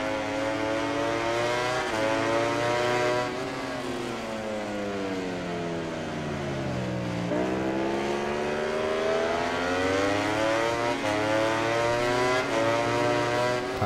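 Honda racing motorcycles in MotoGP 19 accelerate hard, a loud continuous engine whine that rises and falls in pitch with gear changes, dipping midway and climbing again, steady throughout with no talk.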